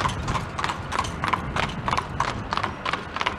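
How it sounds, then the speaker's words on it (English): A horse and buggy clip-clops down a small-town street in St. Jacobs, its hooves striking in a steady, even rhythm close by with no voices over it. "Horse and buggy action."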